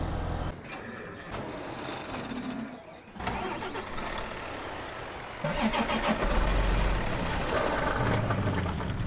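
A truck engine in Farming Simulator 15 starts up and settles into a steady, fairly loud mid-range idle that runs on alone, with a rougher surge partway through.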